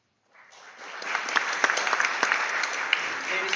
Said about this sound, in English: let's give a nice round of applause for our 2022 salutatorian, Haley Ivanko